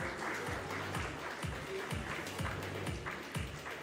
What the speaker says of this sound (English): could I request a huge round of applause, ladies and gentlemen, as we welcome him